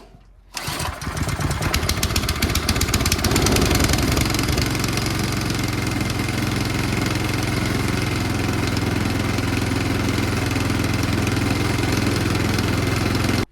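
A Yard Machines Powermore snow blower engine catches on a pull start with the choke on and a little throttle, then settles into a loud, steady, close mechanical running drone.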